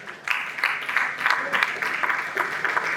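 An audience at a magazine awards ceremony applauds an award recipient with a moderate crowd of claps, fairly even and sustained throughout, with a voice faintly heard beneath.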